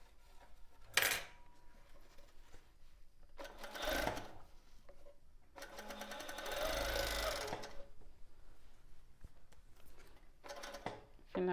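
Sewing machine stitching tulle over a bra cup, heard in several short bursts of close needle clatter separated by quieter gaps with small handling noises.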